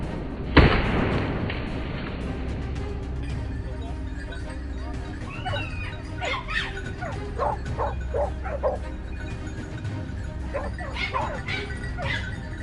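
Hunting dogs bark and yip in short bursts while searching for a wild boar in a forest, heard at moderate distance over a steady outdoor hum after one loud thump near the start.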